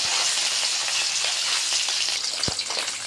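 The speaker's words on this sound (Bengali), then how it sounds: "তেলটা গরম হয়ে গেলে তারপর মাছটা দিতে হবে" Turmeric-coated fish frying in hot oil, a dense, steady, close crackling sizzle with a faint bump near the end and no talking.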